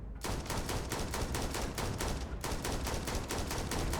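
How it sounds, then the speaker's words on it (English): Rapid, evenly spaced gunshots from a sniper rifle in the video game Starfield crack out in a dense steady run, loud and continuous with a brief gap midway. "so let's try my sniper rifle instead."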